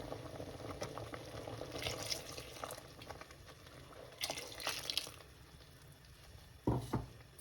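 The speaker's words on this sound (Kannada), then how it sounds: "ಇನ್ನೂ ಒಂದು ಗ್ಲಾಸಷ್ಟು ನೀರು ಹಾಕ್ತಾಯಿದ್ದೀನಿ" Water poured into simmering chicken sambar in a pot, a soft bubbling simmer with intermittent splashy pours and a louder splash near the end.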